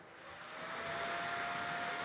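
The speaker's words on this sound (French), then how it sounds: "il y a un ventilateur qui va extraire la fumée à travers le tuyau" A Creality Falcon 2 laser enclosure's active air filter fan whirs steadily, a broad airy rush with a faint tonal whine that swells slightly at the start and then holds constant, close by and without voices.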